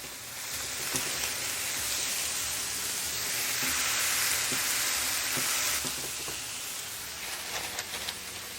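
Onions frying on a hot griddle give off a loud, steady sizzle. Faint scraping sounds from stirring come and go beneath it, and no one speaks.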